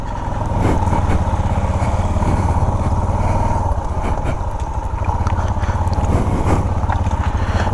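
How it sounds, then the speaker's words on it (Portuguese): Several motorcycles ride and arrive at night along a trail, their engines forming a loud, continuous rumble that swells and fades slightly as they pass close by. "ver um bando de moto chegando"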